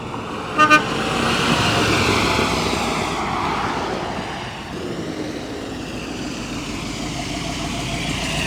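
A 1972 Corvette LT-1 V8 approaches and passes at a classic car dealership, its engine and induction roar building and then fading into a steady low rumble, preceded by a brief car horn toot.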